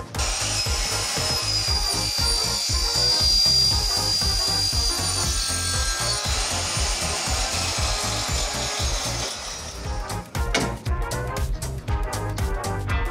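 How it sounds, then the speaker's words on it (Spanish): A power saw cuts a 50 by 30 metal profile for a camper truck subframe, giving a loud, steady grinding whine for about ten seconds, then stopping into a short run of scraping clatter. "vamos a empezar a cortar la parte del perímetro del perfil de 50 por 30"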